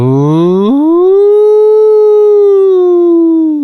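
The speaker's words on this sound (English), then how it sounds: "That was the first siren." An air raid siren sounds loud and close: a single sustained wail that rises steeply within the first second, holds steady, then starts to fall slightly toward the end, with no talk over it.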